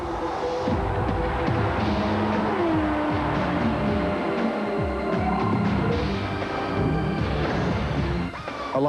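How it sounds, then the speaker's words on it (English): A race-modified NASCAR Winston Cup Chevrolet Monte Carlo engine roars and revs at Indianapolis Motor Speedway, loud and sustained with rising and falling pitch sweeps as the car passes and shifts. "Introducing the race-modified Chevrolet Monte Carlo."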